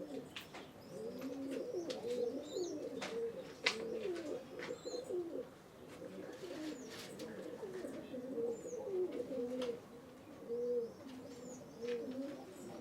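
Racing pigeons in a loft coo continuously in low, soft, rolling phrases, several birds overlapping at a quiet level, with faint higher chirps scattered above.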